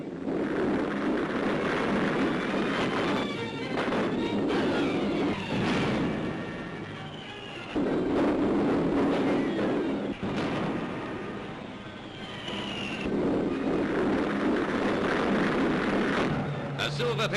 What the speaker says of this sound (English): A silver-painted flying ambulance comes into land